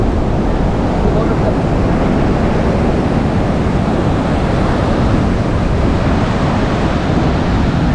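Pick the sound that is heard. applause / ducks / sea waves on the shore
sea waves on the shore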